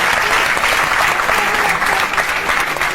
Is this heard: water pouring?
no